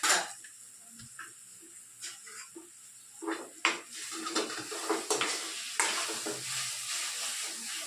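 Cumin seeds sizzle and fry in a pan while mint chutney is being made, with steady frying hiss under occasional stirring scrapes and clinks of a utensil, close by and moderately loud.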